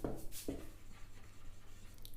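Chalk or marker strokes on a classroom board during a physics lesson on light reflection, a steady scratchy scraping with two sharper onsets near the start, faint and close with no talking.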